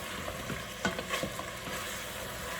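Oxtail browning in a pot gives a steady sizzle, with stirring scrapes and soft clacks of a spoon against the pot, close and continuous.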